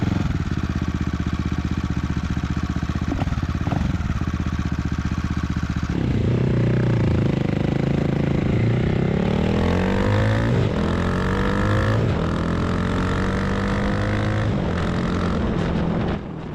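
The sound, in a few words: CCM retro naked motorcycle being ridden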